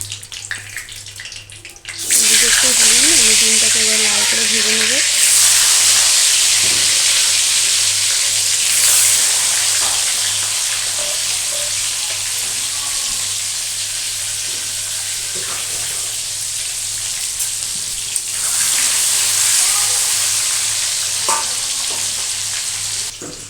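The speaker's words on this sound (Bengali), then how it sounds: "তারপরে ডিমটা ছেড়ে দেবো তেলে" An egg dropped into hot oil in a home kitchen after cauliflower was fried, bursting into a loud, bright continuous sizzle that holds steady and close, swelling again near the end.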